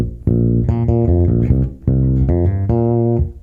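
A bass guitar plays the closing bar of a groove riff, with a string of plucked low notes in two phrases separated by a short pause, heard alone and fairly loud.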